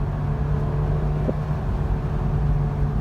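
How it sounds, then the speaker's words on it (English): A Honda S2000 with its stock exhaust pulls steadily under acceleration, a constant loud engine drone heard from inside the car for about three seconds without talk. "The car just wants to keep pulling even past the red line."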